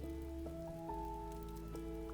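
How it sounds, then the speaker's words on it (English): Soft rain ambience in the cozy game Spirit City: Lofi Sessions, a quiet steady patter layered under sustained mellow lofi music tones. "Let's turn off the rain"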